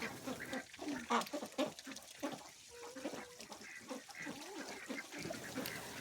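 Several ducks quack and honk close by at a homestead coop with chickens, in an irregular, chattering stream, with a few louder calls standing out.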